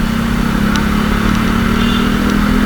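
Yamaha Aerox 155 scooter fitted with an Etech pulley set, its engine held at high revs in a loud, steady drone with wind rush, close to the listener.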